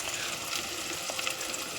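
Chopped tomatoes fry in a pan over a low gas flame, a brief, continuous soft sizzle and crackle heard close up with no voices.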